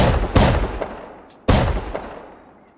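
Two loud shotgun blasts from traps in a video game's base, each a sharp boom with a long decaying echo, the second about a second after the first, with no talk.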